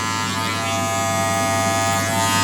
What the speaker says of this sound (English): I'm going to switch the clippers. I'm going to use my Andis for this.